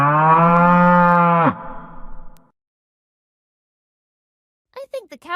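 On a cattle farm a cow lets out one long, loud, close moo that trails off, followed by silence and then a short burst of high-pitched cartoonish vocalizing.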